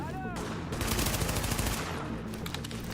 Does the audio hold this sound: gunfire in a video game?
yes